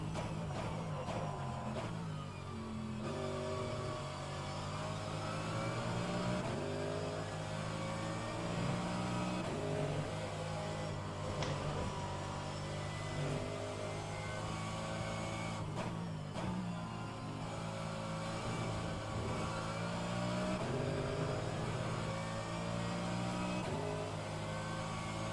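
Race car engines roar and rev continuously in rFactor2 at Road America, a dense, loud layer of engine tones rising and falling with shifts, with no talking.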